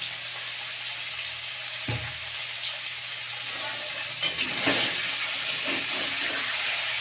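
Paneer pieces frying in hot oil give off a steady, fairly quiet sizzle, with a utensil knock near the start and a few clinks and scrapes toward the end.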